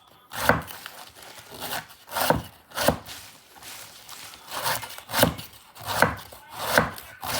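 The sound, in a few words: chopping food by hand instead of with a machine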